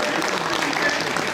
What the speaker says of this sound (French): Merci à vous, on peut les applaudir.